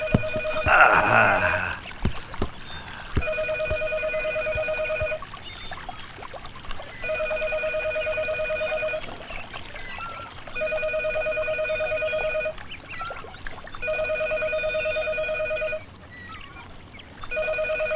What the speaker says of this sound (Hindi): फोन बजे जा रहा है, कोई उठा तक नहीं सकता।